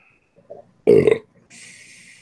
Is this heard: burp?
yes